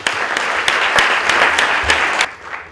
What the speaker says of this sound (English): Let's give Mayor Cathy Chian a round of applause.